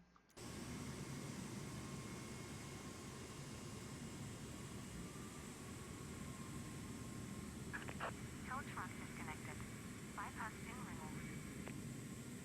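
An Airbus A330-300 jet engine starting up in Microsoft Flight Simulator 2024 makes a steady, close, even roar throughout. A cluster of faint, brief chirping tones cuts through late.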